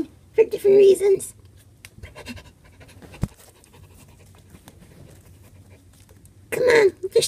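Quick, close panting breaths come in short bursts at the start and again at the end, with a quiet stretch in between.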